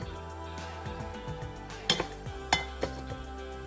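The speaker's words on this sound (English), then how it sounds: "And this is the time you mix the cooked beans in." A spoon stirs cooked black-eyed peas into sticky rice in a pot, giving soft scraping and a few sharp clinks of utensil against the pot, quiet and close with no talking.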